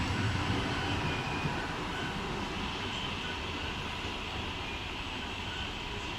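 A steady, loud rumble of a passing Trenitalia high-speed train at Venezia Mestre station with rushing, roaring wind noise, continuous throughout without voices.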